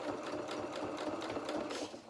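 Sewing machine stitching a felt doll's duffle coat with a tacking stitch, a steady close whirring run of rapid needle beats throughout, fairly quiet.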